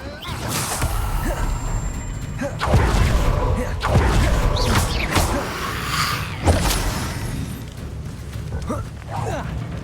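Spell combat in Hogwarts Legacy, with repeated whooshing casts, thuds and crashing impacts from an Expelliarmus disarming spell amid a loud magical duel, a voice speaking over the action.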